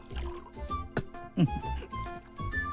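Liquid trickles and splashes into a cup while people talk over it, the pour coming in short bubbling bursts.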